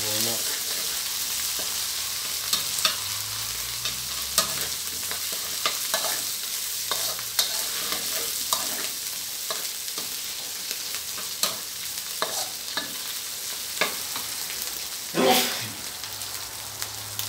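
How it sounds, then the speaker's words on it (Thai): Garlic and curry paste stir-fried in a pan for a Thai sweet vegetable curry with red ant eggs: steady close sizzling with frequent scraping and stirring knocks, continuous throughout with no talk. "จะผัดกระเทียมให้หอมหมดเลยครับผม"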